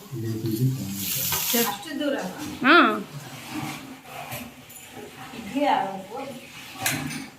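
Idli upma frying and sizzling in a home kitchen pan, with stirring and clinks of pots, heard under ongoing talk.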